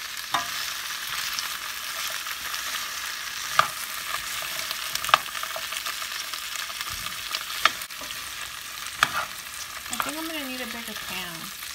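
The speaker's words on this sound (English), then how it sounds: "I'm going to go ahead and stir this for a little bit just so they can get nice and tender" Sliced bell peppers simmer and sizzle in a pan under a steady frying hiss, broken by occasional scrapes and clinks as a utensil stirs them close by.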